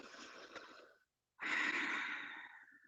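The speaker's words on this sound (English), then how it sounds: "I'm going to take 5 breaths here, breathing in through the nose." Slow, deep yoga breathing through the nose, heard as two long breaths separated by a short pause, with the second one fuller and louder. The breathing is close and steady, and no one speaks.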